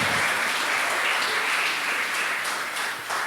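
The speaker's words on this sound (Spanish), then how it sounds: "Denle ese aplauso fuerte al Señor." A church congregation claps loudly and steadily as praise to the Lord during a service, the dense applause holding at an even level and easing slightly near the end.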